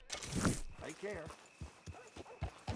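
A few soft hoof clops from a horse in the Red Dead Redemption video game, spaced and fairly faint, following a brief burst of louder noise and a voice-like sound.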